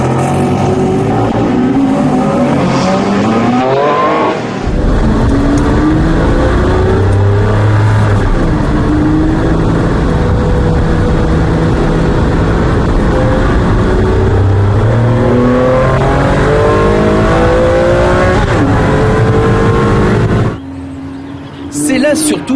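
A Ferrari Enzo V12 engine at full cry on the Nogaro race circuit, loud sustained revving that climbs through repeated gear changes before easing off near the end.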